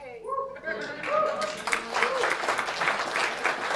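An audience claps at a political talk, a brief, modest burst that builds and then holds steady, mixed with a voice speaking over it.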